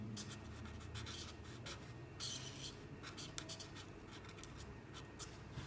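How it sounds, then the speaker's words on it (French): Alcohol marker, a Pro Marker in blue-grey, coloring straps on a paper drawing of a Fortnite character on a skateboard: soft continuous scratchy rubbing strokes, close and quiet, with no talking. "J'utilise ensuite du bleu gris 5 pour colorier le reste de nos attaches."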